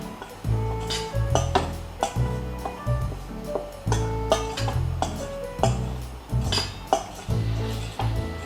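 Chicken fillet is being tossed with breadcrumbs in a bowl, giving a close, rhythmic series of knocking clinks and scrapes of utensil on the bowl, repeated roughly every half second, no speech.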